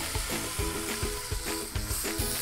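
A filet mignon steak sears loudly in a hot pan, with a dense sizzle and a regular series of soft thumps and scrapes as it is moved and flipped.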